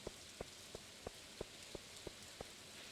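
Rainy-day rain in the video game Stardew Valley, very faint, with a steady series of soft, evenly spaced ticking drips about three per second over a quiet hiss, no voices.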